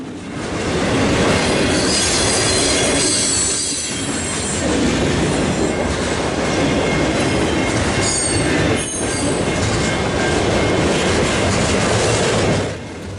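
CN mixed freight train 315 rolls past on the Three Hills Subdivision in winter, a loud, continuous roar of railcars with shrill wheel squeal rising above it and faint clickety-clack throughout.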